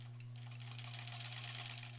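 Sewing machine stitching a scant quarter-inch seam on quilt sashing for granny squares, a fast, quiet, steady patter of needle strokes over a low motor hum.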